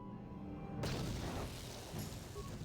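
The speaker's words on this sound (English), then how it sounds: "I'm just gonna chuck a grenade." A grenade detonates in the video game Star Wars: KOTOR, a sudden broad low boom that swells and rumbles on for a couple of seconds, loud against the game's background.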